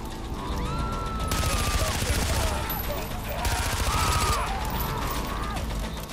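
Rapid automatic gunfire from the player's weapon in Far Cry 4, sustained fusillades with mechanical clatter layered over dense game sounds, loud and continuous.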